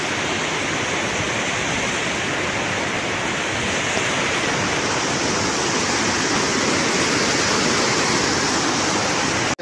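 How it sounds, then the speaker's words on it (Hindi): Water roars steadily down Panchghagh Falls, a dense, unbroken wash of falling water that stays loud and close for the whole stretch with no voices. "पानी जा रहा है"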